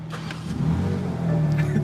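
A 2021 BMW M3 or M4 engine fires up, settling into a steady, close idle with a deep droning hum that swells slightly louder near the end.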